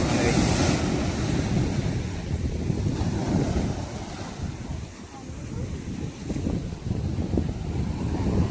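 Sea waves surging onto a beach at high tide, a loud continuous roar of surf with wind buffeting the microphone, while people talk in the background.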